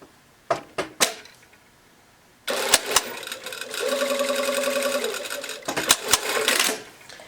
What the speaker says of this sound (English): So I'm just going to sew and backstitch down that far